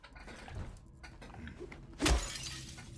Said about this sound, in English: smashing all the glass